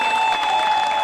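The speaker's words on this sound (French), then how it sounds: "Vous ne pouvez pas applaudir pour elle." Audience applause at a village chief's inauguration ceremony in Manengouba, a short, steady wash of clapping with a sustained tone running underneath.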